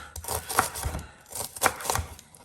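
A knife dices onions on a cutting board in a series of quick, close chopping taps, grouped in short bursts with brief pauses between them and no talk.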